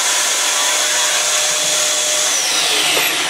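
A clogged vacuum cleaner running continuously, its motor producing a loud, strained, airy whine that holds steady throughout, with no voices.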